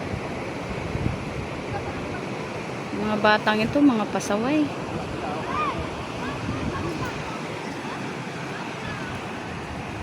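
A steady, loud rush of a swollen river's flowing water fills the whole stretch, with people talking over it and a brief burst of voices near the middle.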